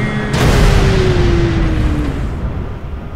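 A heavy rocket explosion in GTA V bursts after a short lead-in, a deep booming blast that rumbles and decays slowly, with a descending whine fading underneath.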